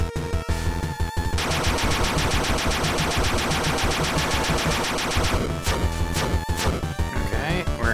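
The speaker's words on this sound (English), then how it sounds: "He's gonna shoot the big fireball." A boss in Bloodstained: Curse of the Moon launches a big fireball, heard as a dense, rapid burst of loud crackling blasts over game music that stops abruptly, followed by scattered hits.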